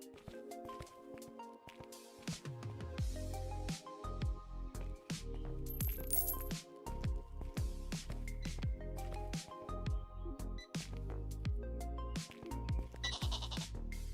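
Baby goats in the farm simulation game Megastore Simulator bleat repeatedly in wavering cries, close and loud, overlapping with game chimes and clinking effects.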